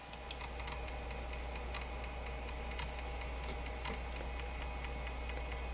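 An old SCSI hard drive runs a benchmark, giving faint, rapid, irregular ticking and clicking over a steady low hum, with no voices.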